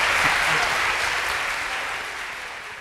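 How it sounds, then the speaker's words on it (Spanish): Audience applause for the speakers at a live taxation debate conference, a dense, steady clapping from a room full of people that holds loud throughout and fades slightly toward the end. "un fuerte aplauso para nuestros colegas"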